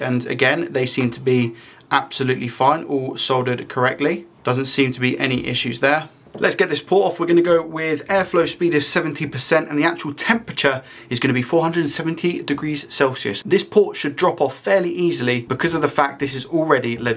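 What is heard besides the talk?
No everyday noise stands out behind the speech.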